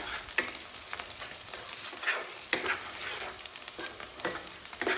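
Mint, coriander and green chillies sizzle in hot oil in a pan for chicken biryani, a steady close frying crackle with occasional scraping stirs and no talking.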